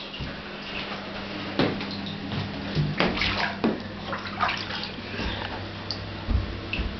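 A pet splashes in a bathtub, with water sloshing and scattered louder splashes and knocks against the tub at close range, no voices.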